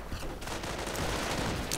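Dense, continuous gunfire from a WWII strategy video game, sniper shots and an MG42 machine gun blending into a loud, unbroken fusillade with no distinct single shots.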